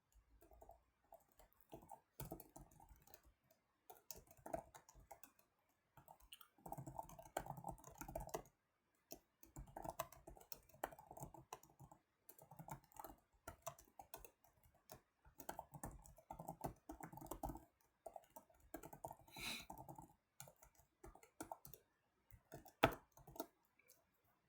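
Someone types a program on a computer keyboard in Notepad, with close, quiet bursts of clicking keys separated by short pauses, and no talk.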